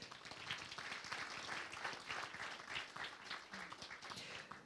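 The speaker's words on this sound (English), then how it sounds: "A round of applause to Tan Sri." Audience applause at an IPO prospectus launch event for a precious metals company, a steady broad wash of many hands clapping throughout, moderately loud and sustained with no speech over it.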